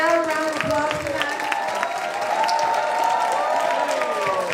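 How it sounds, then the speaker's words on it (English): An audience at an Indian Medical Association child suicide and opioid crisis prevention event claps steadily, a dense wash of applause mixed with voices throughout. "Can we give him a loud round of applause tonight?"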